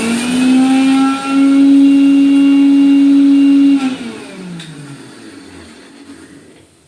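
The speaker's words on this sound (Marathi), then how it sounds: "हे तीळ आणि धने आहेत ना हे आपण आता बारीक करून घेऊ मिक्सरला" A kitchen mixer grinding sesame seeds and coriander seeds whines at a steady high pitch for several seconds, then winds down as it is switched off.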